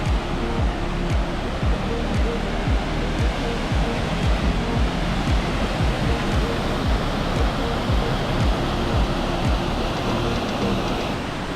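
Caribou Falls on Minnesota's North Shore roars steadily and loudly, a dense continuous rush of falling water filling the whole scene with no break.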